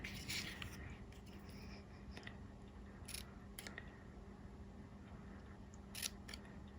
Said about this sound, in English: Let's just cut this last one